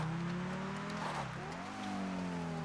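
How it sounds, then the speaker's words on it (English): A Grotti Veleno GT supercar drives in GTA Online, its engine note holding a steady, sustained drone that dips and climbs again, with no talk over it. "We've got a supercar in the game."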